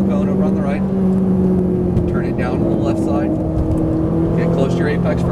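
A Ferrari 458 Italia's engine accelerating on a track, a loud continuous drone with a steady low pitch throughout, heard from inside or near the car, with a driving instructor's voice talking over it.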